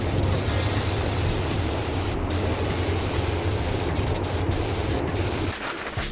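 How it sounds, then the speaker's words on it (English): In a paint booth, a spray gun primes the bumper of a Nissan 300ZX with a loud, steady hiss that runs almost without a break, with a few short clicks, then fades near the end. "Then we take it into the booth and we spray it."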